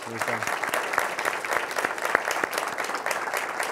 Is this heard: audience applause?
yes